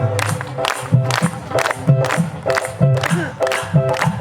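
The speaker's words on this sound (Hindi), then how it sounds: "तो जो सेवा करने आया है जरा ताली बजे प्रेम से" Audience members at a Hindu devotional bhajan gathering clap in a steady rhythm, sharp bursts about twice a second over ongoing music and crowd noise.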